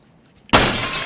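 A glass window shatters in Escape from Tarkov: a sudden loud crash after near silence, followed by a bright, sustained spray of breaking, tinkling glass.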